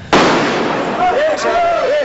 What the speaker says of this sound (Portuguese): Foram ouvidas as primeiras explosões do lado de fora.